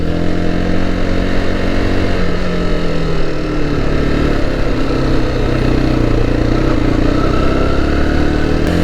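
A motorcycle engine runs steadily and close while riding in Tunisia, a continuous loud mid-pitched drone with slight shifts in revs and no talking throughout.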